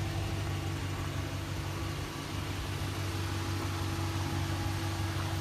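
Ram pickup truck engine idling with the air conditioner running on a hot day, a low steady rumble with a faint hum, close by and unchanging.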